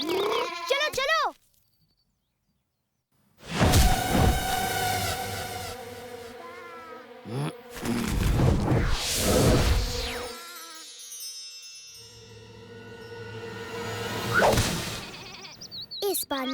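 Sheep bleat in an animated cartoon about Little Krishna, with wavering high calls at the start and later, mixed with whooshing effects, music and a stretch of silence.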